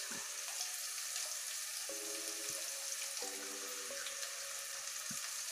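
Onions and fennel seeds frying in a pan for a raw banana and coconut curry, a soft continuous sizzle with a few faint clicks and brief tonal background sounds, fairly quiet and steady.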